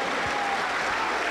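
A Pentecostal church congregation applauds with steady, even clapping throughout a brief, full-sounding burst.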